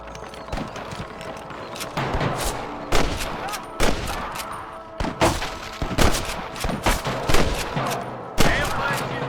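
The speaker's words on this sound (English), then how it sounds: "I can hear more gunshots." Gunfire in the video game Red Dead Redemption, a ragged series of sharp shots and bursts from several guns, some clustered and overlapping, loud and close across the whole stretch with brief gaps between volleys.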